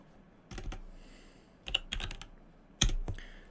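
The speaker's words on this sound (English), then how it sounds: "I'm just going to press start and I'm going to type in" Scattered keystrokes on a computer keyboard, a few separate clusters of clicks typed at close range in an otherwise quiet room.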